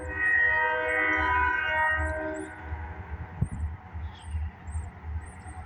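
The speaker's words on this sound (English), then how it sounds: "Here comes the train, everybody!" A Buffalo and Pittsburgh freight train passes near Punxsutawney, Pennsylvania: a loud sustained horn blast fades into the heavy rumble and rhythmic clatter of rail cars rolling by close.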